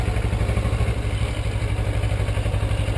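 A motorcycle engine running steadily close by as the rider gives a little gas, a loud even throbbing chug with no voices.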